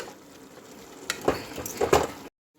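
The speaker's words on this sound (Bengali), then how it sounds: "এই হাতা দিয়ে এই আলুগুলো একটু ঘেটে দেব" A ladle mashing boiled potatoes in a pan of simmering cabbage curry, several soft squelching scrapes and stirring knocks over a low sizzle, ending abruptly.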